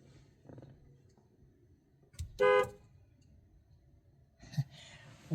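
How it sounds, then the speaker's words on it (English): A car horn gives one short, loud blast from a Ford Mustang during an S197 to S550 steering wheel swap, set among quiet garage clicks and faint murmured words, with a softer burst just after. "Why is my car honking?"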